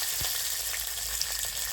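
Mustard seeds and curry leaves frying in oil, a faint, steady sizzling hiss with tiny crackles throughout.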